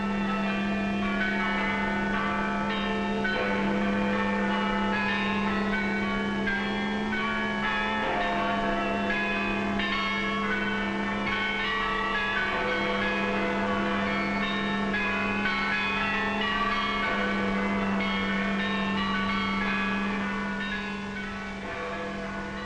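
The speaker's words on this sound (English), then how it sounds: "Now the bells rang out a song of thanksgiving, a song of victory." Church bells peal out in celebration of thanksgiving and victory in wartime Britain, a dense, continuous ringing of many overlapping tones with a steady low hum beneath, loud and sustained throughout with no talking.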